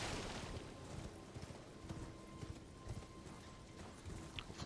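Horse hooves clip-clop steadily during a ride in a video game, a continuous rhythmic patter over a dense background rumble.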